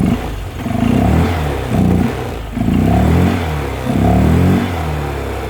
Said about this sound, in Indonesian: Dan ada suara open filternya kalau kalian dengar.